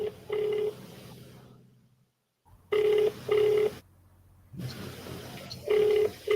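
Phone call ringing back through a handset, repeated electronic ring bursts in a steady rhythm separated by gaps, faint and close with no talking.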